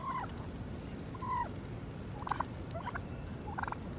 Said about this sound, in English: We have crazy turkeys following us.